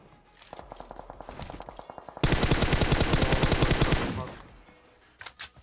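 Automatic gunfire rattles in the mobile battle royale game PUBG Mobile, first as rapid distant bursts, then as a loud, sustained close-range spray of shots lasting about two seconds before fading, with a few more shots at the end.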